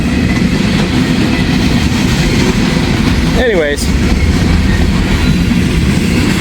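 An empty ethanol freight train rolls past loudly and close, a heavy continuous rumble and rattle filling the whole stretch, with a voice briefly speaking over it midway.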